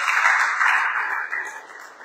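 A church congregation at a Sunday service applauds together, a sustained wash of many hands clapping that fades slightly toward the end.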